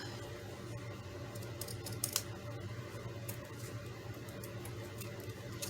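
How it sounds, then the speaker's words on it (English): Quiet, crisp snips of fabric scissors cutting through paper, a few sharp clicks clustered together against a low background hum. "I love my fabric scissors."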